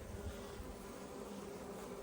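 Honey bees buzz around a hive feeder that holds pollen substitute, a faint, steady, unbroken hum throughout with no voices.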